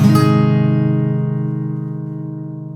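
Guitar strums a chord from a song's chord progression, one bright attack that rings out and fades steadily over a few seconds, close and alone with no talking.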